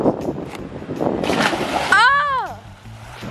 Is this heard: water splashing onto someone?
yes